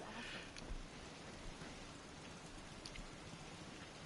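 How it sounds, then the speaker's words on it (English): Heavy rain pours down in the video game Fallout 4, a dense, continuous hiss with occasional faint drop taps, fairly quiet and heard alone without talk. "Oh, that rain is coming down really hard"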